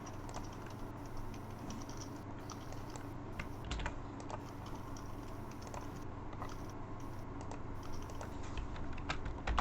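Steady, continuous clatter of many computer keyboards being typed on at once, a dense overlapping patter of keystrokes at moderate level with a low background hum throughout.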